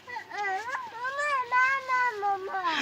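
Cats meow close by, several drawn-out, wavering cries following one another with barely a pause between them.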